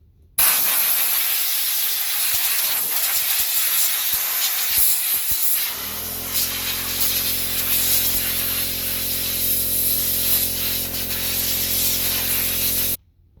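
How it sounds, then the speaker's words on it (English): A can of compressed air sprays into a Trane air conditioner in one long, loud, steady hiss lasting over ten seconds, with a low droning hum joining partway through before the spray cuts off abruptly. "Let's try it. Compressed air."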